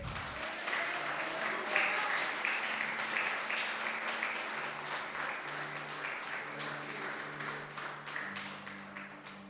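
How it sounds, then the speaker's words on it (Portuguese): A church congregation at a Portuguese-language worship service claps together in a dense, even round of applause that tapers slowly, soft and somewhat distant. "Você pode dar uma salva de palmas para Ele?"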